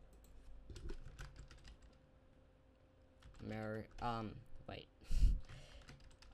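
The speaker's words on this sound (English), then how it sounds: "Can't see what I'm fucking typing." Bursts of quick, quiet key clicks on a computer keyboard come during a Photoshop session, broken up by someone talking and muttering close to the microphone.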